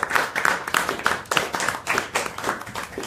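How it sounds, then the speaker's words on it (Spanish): An audience applauding speakers at a libertarian discussion event in Mexico, dense rhythmic clapping from many hands, steady and fairly loud throughout. "Un aplauso a nuestros ponentes."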